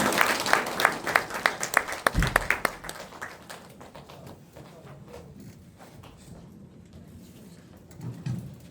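An audience claps in welcome for the CEO of GW Group at a business presentation; brisk, dense applause fills the first few seconds, then fades into quiet room noise with a faint thump near the end.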